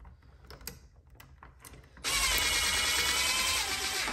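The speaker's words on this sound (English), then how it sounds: "So once again, screw this together." A power screwdriver drives screws into a quadplex electrical receptacle during a residential rough-in, preceded by a few light clicks and handling taps, then a loud continuous whirring run.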